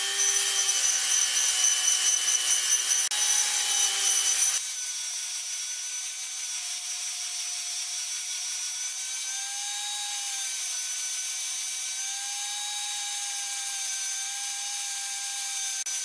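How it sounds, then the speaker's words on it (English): A fine stone rubs against a cast aluminum trailer hinge, a sustained high whining tone with a shift in pitch partway through, steady and fairly close with no talk. "What I've done now is switch to a fine stone. So this way will actually force the surface to become a little bit flatter."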